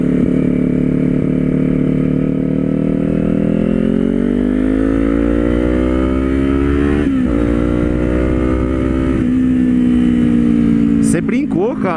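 A Kawasaki Z400 motorcycle accelerating on a highway, its engine note climbing steadily through the gears in a loud, close, continuous drone with brief shifts between rising pitches.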